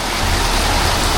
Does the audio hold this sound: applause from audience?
no